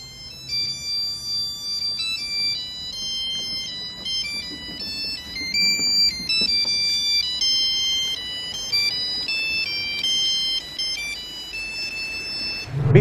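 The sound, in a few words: homemade mobile phone ringtone melody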